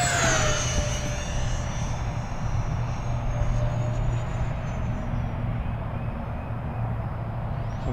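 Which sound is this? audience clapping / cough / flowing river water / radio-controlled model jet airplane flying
radio-controlled model jet airplane flying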